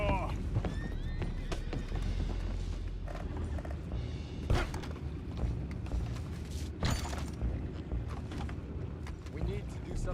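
Horses in Red Dead Redemption 2 clop steadily and whinny amid a busy game scene, with hooves thudding close, a neigh rising early on, mechanical clanks scattered throughout, and voices talking over the action.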